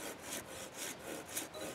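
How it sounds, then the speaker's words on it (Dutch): A small hand saw cutting through wood, giving a quiet, rhythmic rasp of about five back-and-forth strokes heard close up and alone. "Zagen is niet makkelijk hoor. Zeker met zo'n zaagje niet."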